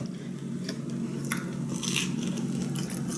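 Someone chews a blueberry bagel close to the mic, with soft, moist bites and squishy chewing over a low background hum, and no voices.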